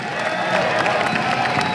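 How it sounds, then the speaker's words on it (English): Steady applause and cheering from a large audience, a dense wash of clapping with scattered whoops. "Ladies and gentlemen, a round of applause for Naniwa."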